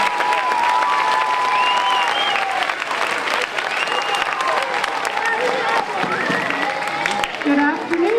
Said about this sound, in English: So round of applause for all of our teachers that are here today